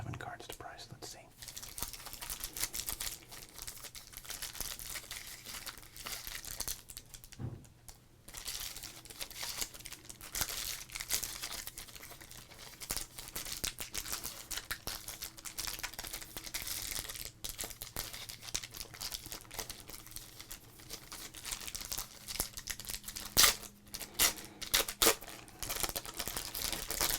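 Foil wrappers of 1992 Score Series 1 baseball card packs crinkle and tear close to the microphone in a quiet room, with soft rustling throughout and intermittent low speech over it.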